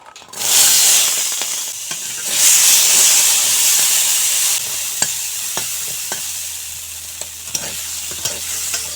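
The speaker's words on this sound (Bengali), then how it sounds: "এখন মটরশুঁটি ভেজে নেব।" Green peas fry in oil in a kadai, opening with two loud surges of hissing sizzle, then settling into a softer steady crackle punctuated by sharp stirring clicks and scrapes.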